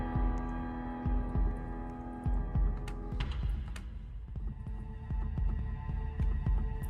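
Heartbeat sound effects in a Roblox video game thump in a steady double-beat rhythm, loud and close, with two overlapping heartbeats layered over background game music and hum.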